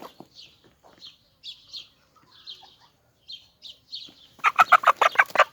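Chickens and a rooster cluck in a farmyard at feeding time, starting with scattered soft clucks and chirps, then ending in a burst of loud, rapid, close calls.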